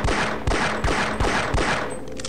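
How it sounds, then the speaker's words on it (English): Pistol shots fired at small white circle targets in the video game Opposing Force, five sharp loud reports at a steady, evenly spaced rhythm, each with a short echoing tail. "What you want to do to deactivate the electricity is shoot the little white circles here with the pistol."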